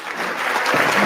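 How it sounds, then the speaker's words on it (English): Brief burst of steady clapping from many people in the House chamber during the electoral vote certification. "Now they're clapping because she's doing it."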